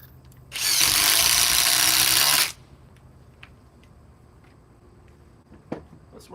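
A Ridgid power tool fitted with a quick insert whirs loudly for about two seconds then stops, followed by quiet room noise and a few faint clicks.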